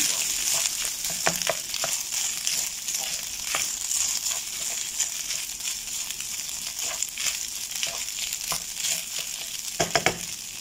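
Vegetable fried rice made with leftover rice is stirred and tossed in a sizzling frying pan, a constant close frying hiss broken by scraping spatula strokes and a few sharp clacks near the end.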